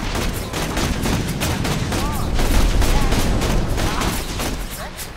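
Assault rifle firing in the video game Borderlands 2, a dense run of rapid, loud automatic shots that continue without a break, with game effects and a voice underneath.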